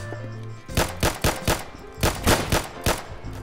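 Gunfire in a realistic gun video game: about nine sharp, loud shots crack out in quick irregular bursts, some close together like rapid fire, over a quiet background.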